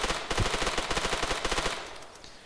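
MP5 submachine gun fire in Arma 3: a rapid, evenly spaced burst of loud, sharp shots lasting about two seconds, then tailing off.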